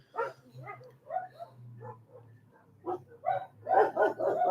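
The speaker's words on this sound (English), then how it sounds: "oh, the doggies are all getting crazy." Several dogs bark and yip in an excited, irregular series of bursts at moderate distance, growing denser and louder toward the end, over a low steady hum in a residential area of Colombia.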